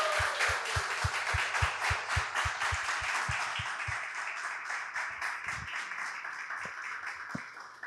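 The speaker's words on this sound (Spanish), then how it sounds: "vamos a darle un fuerte aplauso al Señor por ella." Applause at a church mental-health talk, with one nearby person clapping in a steady quick rhythm over a broader audience clapping that gradually thins and fades out.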